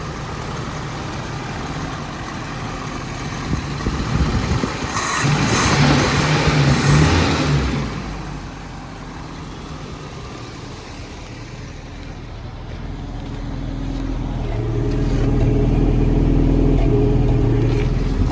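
A 1982 Toyota Pickup 4x4 SR5 engine with no catalytic converter cranks and catches with a loud surge, then settles into a steady, fairly close idle with a low rumble that swells again near the end.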